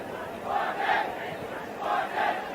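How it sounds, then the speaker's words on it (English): Cricket crowd at a Nepal vs USA one-day international, a big stadium crowd roaring and chanting in waves that swell and fade over a steady din, heard from a distance. "It's amazing to see how enthusiastic the crowd has been"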